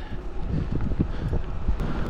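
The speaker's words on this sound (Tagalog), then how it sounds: "So medyo malakas ang hangin." Strong wind buffets the microphone while riding a 2025 Marin Nicasio+ gravel bike, a continuous low rumbling roar with gusty thumps throughout, loud and close.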